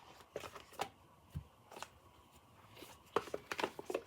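A deck of tarot cards is shuffled close and quietly, with scattered short riffling and snapping bursts separated by pauses and a denser flurry near the end, with no talking.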